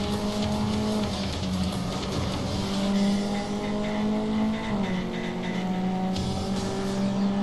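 Race car engine revving steadily with rising and falling pitch as it drives and takes corners in the racing video game Real World Racing, continuous and close, with no talk.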